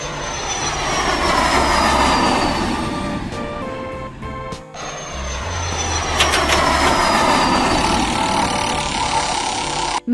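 An airplane flies steadily overhead, a continuous broad engine roar with a slowly falling high whine, loud and near, with a brief dip midway, and no voices.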